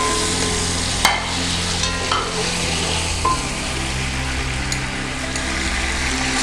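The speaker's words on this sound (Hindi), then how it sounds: "इसको अच्छी तरीके से हम फ्राई कर लेंगे।" Beef frying in a pot with garlic and ginger, a steady close sizzle with stirring scrapes and a few sharp clinks of a utensil against the pot, no talking.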